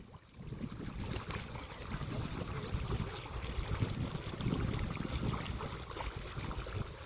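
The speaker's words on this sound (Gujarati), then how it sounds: "કઈ આપણા બોનનું જ પાણી આવે જો પરમભાઈ" Water gushing steadily from a borewell pipe in an open farm field on a hot day, a continuous rushing, splashing flow that stays loud and even throughout with no voices.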